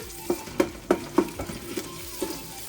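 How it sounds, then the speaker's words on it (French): Tomato paste for a vegetable couscous cooking in a pot while a spoon stirs it, a series of close scraping strokes and soft sizzling, roughly twice per second and then fading. "je laisse ma tomate concentrée un peu cuire parce que ça enlève l'amertume"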